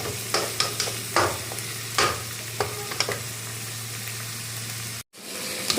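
Tomatoes and onions sautéing in a pan for fish curry, a soft steady sizzle broken by repeated scraping stirs of a spoon, close and moderately quiet, with a brief dropout near the end.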